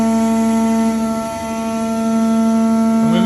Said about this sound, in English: And we're machining.